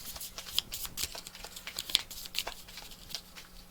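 A deck of cards for the Tainted Grail board game gets shuffled close to the microphone, with soft, irregular riffling and papery crackles in quick bursts, fairly quiet.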